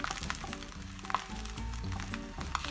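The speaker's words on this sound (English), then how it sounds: "Put your tortilla inside and cook on both sides" A tortilla sizzles in a hot pan over medium-high flame, a steady close frying hiss with scattered sharp pops and faint scraping, no voices.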